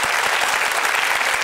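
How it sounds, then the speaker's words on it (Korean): A live studio audience at a Korean lecture talk show claps loudly and steadily, a close, dense burst of applause with no voices over it. "박수 좀 쳐주세요."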